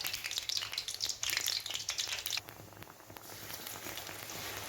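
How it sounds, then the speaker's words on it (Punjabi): A gram-flour battered sandwich sizzles in hot oil, a soft, crackling fry with scattered pops that is busier at first, then settles into a quieter, steady sizzle. "ਡਿਪ ਕਰਕੇ ਅਸੀਂ ਆਪਣੀ ਵੇਸਣ 'ਚ ਤੇ ਹੁਣ ਅਸੀਂ ਇਹਨੂੰ ਫਰਾਈ ਕਰਨੇ ਆ"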